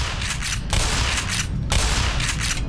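Gunfire in the sci-fi shooter Black Mesa Blue Shift, a loud, close barrage of rapid shots with bursts of sharp cracks in quick rhythm and a brief lull between volleys.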